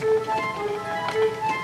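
A single sustained organ tone holds steady, a thin, reedy pitch with a faint shimmer, moderately loud and alone.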